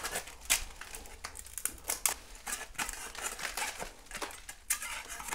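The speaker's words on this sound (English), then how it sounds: "Just peeling off easily, just by hands" Flaking paint being peeled by hand off a bedroom ceiling, soft irregular crackles and crinkling snaps, quiet and close, with no voices.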